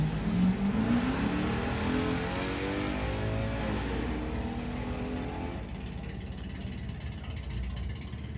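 A Powerflow XK8 Jaguar drag racing car revs at Santa Pod Raceway, its engine rising and falling in pitch through sweeping revs, loud and close over steady crowd and track noise.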